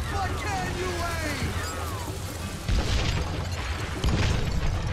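Two heavy booming gunshots ring out a second or so apart in the Call of Juarez Gunslinger video game, over a busy, noisy game soundscape with voice chatter.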